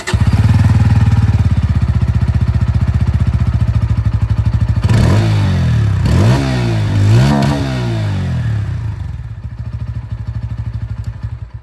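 A 2025 Bajaj Pulsar N160 single-seat USD model idles with a loud, close, steady exhaust thump, then revs up three times with rising and falling engine pitch before settling back to idle.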